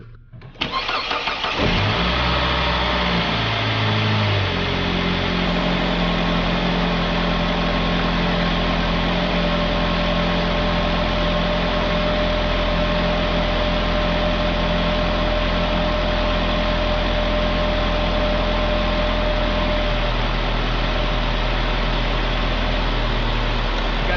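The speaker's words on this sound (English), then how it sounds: "So let's start the car up." A Saab 9-5 car engine with 200k miles cranks and catches, then settles into a loud, steady idle that hums on without a break.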